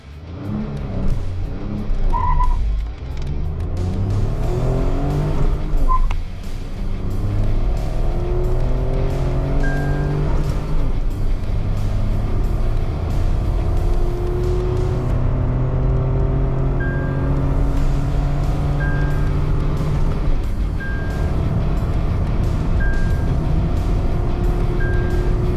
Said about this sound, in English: here is a quick look at how quick the Altroz Racer is in terms of outright acceleration